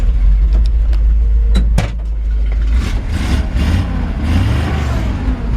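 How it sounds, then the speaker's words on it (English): A 1965 Chevy C-10 pickup engine running close by, a loud steady low exhaust rumble that shifts in pitch partway through, with a few clanks and knocks over it. "Nice, healthy sounding engine."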